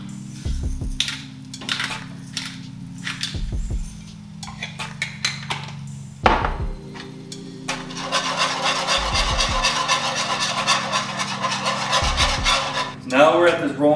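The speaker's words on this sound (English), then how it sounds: "This whole time you are whisking or mixing constantly." A whisk scrapes and rubs against a pan as a sauce is stirred constantly, making rhythmic rasping strokes, with a steady simmering hiss joining in later and a clatter near the end.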